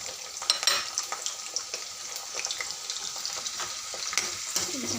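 Chopped onions and green chillies frying in hot oil after the seasoning seeds, a steady crackling sizzle with scattered stirring clicks and scrapes in the pan, close and moderately loud, no voices.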